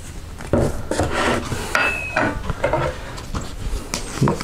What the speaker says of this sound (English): Give that one quick stir.